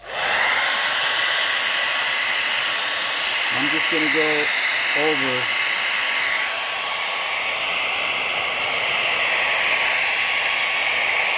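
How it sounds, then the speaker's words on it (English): Steady, loud roaring hiss of a hair dryer running throughout, with a brief spoken phrase partway through and a slight shift in pitch midway. "So I'm getting this, just a regular hair dryer."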